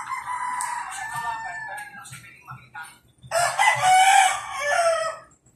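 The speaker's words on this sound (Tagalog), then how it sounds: "Puro manok, maingay." A rooster crows loudly and close, followed by a second longer crow, with chickens clucking and murmuring faintly underneath.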